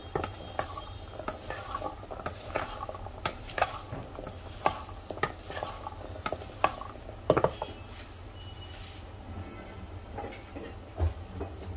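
Salad being stirred and mixed with red chilli powder and lemon, giving a series of light scraping and clinking taps of a spoon against a bowl, irregular and close, with no talking.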